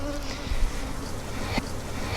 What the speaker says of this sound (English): there's some bees on the ground I do not want to step on